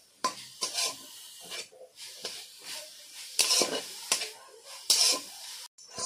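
Grated coconut and date jaggery being stirred in a pan into a sweet filling for pitha: repeated scraping strokes of a spoon against the pan, close and uneven, with soft sizzling between them.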